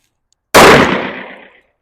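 One loud, close gunshot from a 10mm pistol with a 3.8 inch barrel, firing Federal American Eagle ammunition at an outdoor range: a sharp crack whose echo fades out over about a second.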